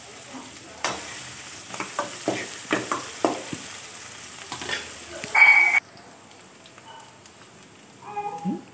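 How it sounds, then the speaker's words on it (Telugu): Turmeric and curry leaves hit hot oil in a pan, giving a short sizzle and crackle with stirring scrapes in bursts, then a quieter stretch with a brief tonal beep. "పసుపు వేసుకొని వేసేసి కరివేపాకు వేసేసుకున్నానండి."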